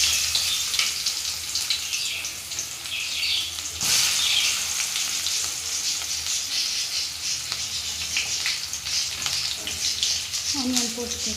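Onions fry loudly in hot oil with cumin and fenugreek seeds, a dense, steady sizzle close up with a brief burst of stirring partway through.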